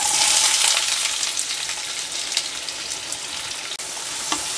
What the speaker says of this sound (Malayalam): എണ്ണ ചൂടായി വരുമ്പോഴേക്കും നമുക്കതിലേക്ക് കുറച്ച് ഉള്ളി ഇട്ട് കൊടുക്കണം